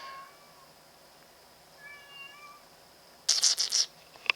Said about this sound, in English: What's the matter, screaming cat?